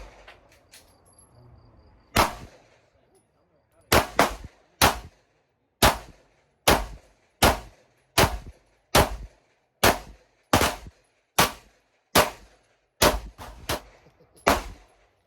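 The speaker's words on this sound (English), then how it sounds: "He gonna shoot the MR920." Walther MR920 pistol fired in a rapid mag dump: a series of about fourteen sharp, loud gunshots at a steady quick pace, each ringing out briefly, with no talk.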